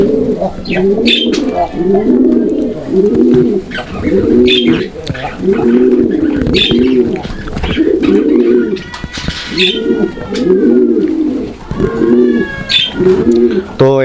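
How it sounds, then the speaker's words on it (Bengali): Pigeons in a sale collection cooing loudly and close by, a steady run of repeated low rhythmic coos one after another, with faint chirps and scattered background noise between them. "আপনারা কবুতরটা দেখছেন কতটা অ্যাক্টিভ এবং কতটা ডাকের কবুতর"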